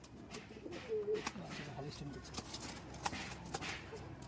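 Teddy pigeons give soft, low cooing calls at a moderate distance, with a few sharp clicks and scuffs mixed in over quiet background noise.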